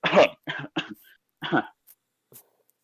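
A person's voice imitates a little cough, several short throaty coughs and clearing bursts in quick succession, close and fairly loud, followed by a couple of faint trailing sounds.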